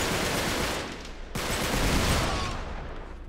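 Gunfire in the video game Uncharted 3 rattles as a dense, noisy burst of shots with a sharp crack about midway, loud throughout with no talk.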